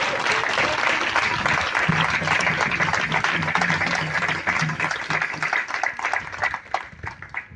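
Church congregation applauding and cheering, a dense, sustained wash of clapping with voices mixed in, loud and full before thinning out toward the end.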